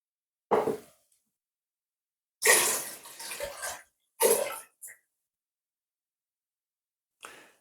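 Half water and half vinegar being poured for a pickle vegetable brine, heard as short splashing pours in separate bursts with quiet pauses between them.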